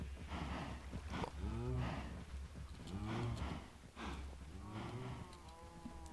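Cows in Minecraft give a string of drawn-out moos at a steady pace, close and clear over a low background hum, with no talking.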